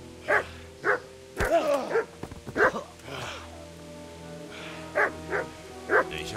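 A dog in the medieval game Kingdom Come: Deliverance barks repeatedly, sharp yaps in an uneven rhythm with a brief whimpering growl midway, close and clear over a low background hum.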